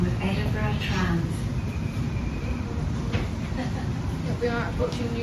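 Edinburgh tram running toward Newhaven on the new extension, a steady low rumble and rolling hum filling the cabin with faint higher squeals, continuous throughout, while a person talks over it.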